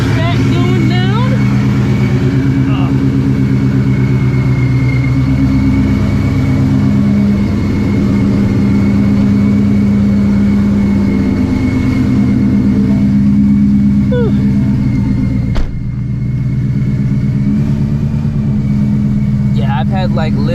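A motorcycle engine with a newly replaced clutch running steadily while riding on the road, a constant mid-pitched drone with slight revving shifts, heard under continuous talking.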